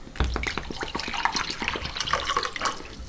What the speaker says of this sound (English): I'm going to pour some of this into a cup here